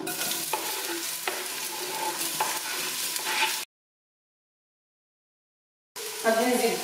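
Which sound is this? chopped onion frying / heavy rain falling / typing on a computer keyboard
chopped onion frying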